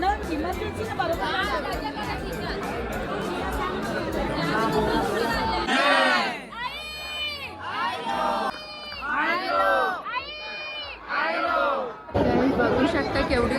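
A large crowd chatters at a goddess's palanquin procession in Kalyan Koliwada, first as a dense, loud murmur with scattered shouts. Then a nearby voice talks over the thinner crowd noise before the full din swells back.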